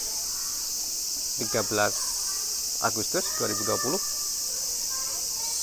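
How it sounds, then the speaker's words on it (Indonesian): Cicadas, called garengpung, drone continuously on a summer evening in Tsukuba, Japan, a steady high buzzing that fills the background while someone speaks in short bursts over it. "kalau Anda dengarkan suara di belakang sana itu backsoundnya adalah suara penggaret, atau kalau bahasa Jawa Tengahnya namanya garengpung."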